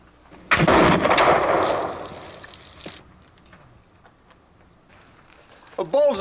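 A single loud, close report from a Pennsylvania longrifle fired at a target, sharp onset with a long rolling decay, followed by quieter background and voices near the end.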